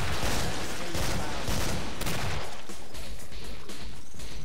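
Dense automatic gunfire from big guns in the video game Killing Floor goes on without a break, loud and close, with rapid overlapping shots and heavy low thumps that ease slightly toward the end.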